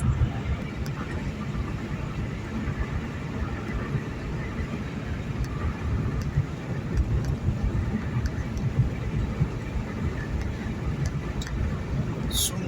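A steady engine and road rumble from a car cruising at about 70 km/h on an empty road at night, with wind noise over the microphone and no talking.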